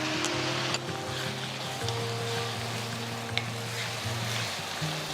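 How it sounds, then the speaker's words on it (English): Roughly chopped tomatoes sautéing in a pan with golden-brown onions and curry leaves, a constant close sizzle broken by occasional stirring scrapes and clicks, with a low hum underneath. "After sauteing the tomatoes for about 2 minutes"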